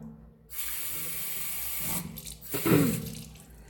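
Tap water runs into the reservoir of a water flosser for braces, a steady close hiss from a faucet with a brief gurgle and shift in tone as the container fills, no talk.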